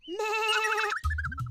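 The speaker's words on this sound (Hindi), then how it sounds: "अपनी भेड़ें संभालो श्रीधाम" A cartoon sheep gives a single long, wavering bleat up close, followed by a short low burst of other cartoon sound.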